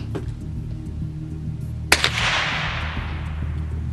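A single sharp gunshot from a gun loaded with pellets and .22 nail gun blanks, cracking loud at close range and then fading into a brief decaying echo over quiet background hum.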